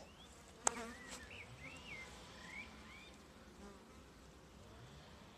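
Faint buzzing of gentle honeybees flying around an open hive, with a sharp click near the start and a quiet outdoor background.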